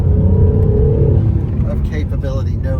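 An Acura NSX rolling along a road at low speed, its engine a steady low rumble close by throughout.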